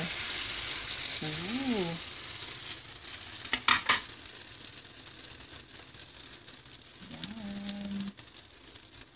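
Eggplant omelette (tortang talong) frying in an oily pan gives a steady, close hiss of sizzling throughout, with a brief clatter midway and bird coos in the background; a voice makes a short exclamation.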